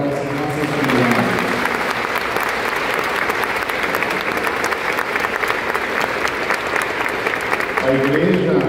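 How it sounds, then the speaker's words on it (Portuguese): A congregation at a solemn grandparents' mass in Sant'ana Cathedral applauds the rural and urban communities, a dense, loud, sustained round of clapping filling the whole stretch, with faint voices near the edges. "Vamos dar uma salva de palmas para as nossas comunidades."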